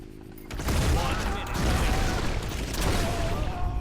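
Prototype X gun in the Blitz Brigade video game firing a dense, sustained burst of loud rapid shots, broken briefly near the middle, with faint talk at the start.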